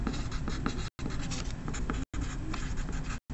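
A pen or pencil scratches across a paper math worksheet in close, continuous strokes, broken by three brief pauses as the writer lifts the tip.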